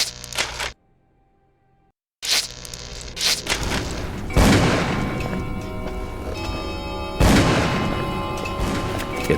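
Gunshots are fired at a locked door in a video game. Loud, sharp blasts ring out in separate bursts after a brief silence, each leaving a long metallic ringing decay.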